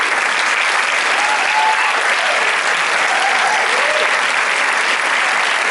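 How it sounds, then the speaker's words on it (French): Loud, dense applause from a cinema audience at a French film premiere as the producer is welcomed, a steady unbroken roar of clapping close up, with no speech over it. "Merci d'applaudir le producteur Emmanuel Bravo"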